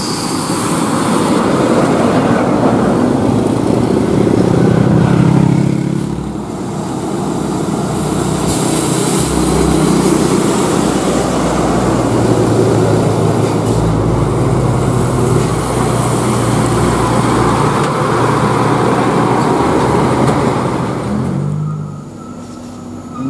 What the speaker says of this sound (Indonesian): Bukit Tinggi Scania K310 Mang Zaldi